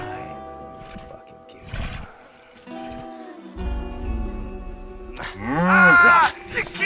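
A cow in the Just Cause 3 video game gives a loud, drawn-out moo near the end, set against game music and ambient sound.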